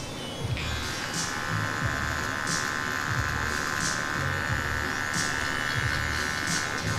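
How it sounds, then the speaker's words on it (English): An electric hair trimmer buzzes steadily through the whole stretch in a barbershop, cutting longer hair near the hairline, with a voice talking over it. "Sometimes with the longer hairs, the trimmer doesn't take right away."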